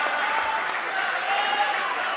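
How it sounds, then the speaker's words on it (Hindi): Loud, dense applause from a large crowd welcomes guests at a political ceremony, a continuous even roar of many hands clapping throughout. "जोरदार तालियों से आपका स्वागत है।"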